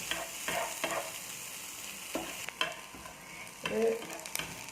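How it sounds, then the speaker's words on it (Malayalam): Prawns and dried red chillies fry in a hot pan for a Kerala-style chammanthi, giving a steady close sizzle broken by several louder bursts of stirring and scraping, with no talking. "ചെമ്മീൻ ഒരുവിധം ചൂടായി വരുമ്പോഴേക്കും നമുക്കിതിലോട്ട് ഈ വറ്റൽ മുളക് ഒന്ന് ഇട്ടിട്ട് അതിൻ്റെ കൂടെ തന്നെ അതും കൂടി കിടന്നൊന്ന് ഫ്രൈ ആവണം"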